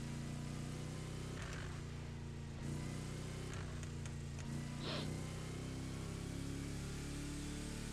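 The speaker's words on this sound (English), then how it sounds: "this car's freaking engine is terrible" A car engine in The Crew Motorfest racing game drones steadily and loudly, a continuous low rumble with small shifts in pitch, no talk.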